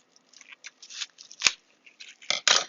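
Scissors snip and cut through material in quick, crisp, irregular bursts at close range, ending in a couple of louder cuts.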